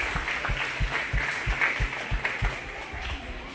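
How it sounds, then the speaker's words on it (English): A crowd at a 4-H/FFA goat show claps in a steady, moderately distant round of applause, with voices and a low rhythmic thumping beneath the clapping. "let's one more time give a big round of applause"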